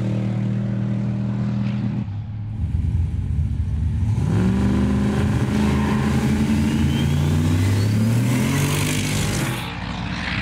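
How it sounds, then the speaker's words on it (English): A white VR Commodore with a turbocharged LS3, 85mm turbo and Turbo 400 gearbox accelerates down a runway, its loud engine droning and climbing steadily in pitch through the gears, close and continuous, with no talking. "this is my white VR Commodore. It's got an LS3 with an 85mm turbo and a turbo 400 gearbox."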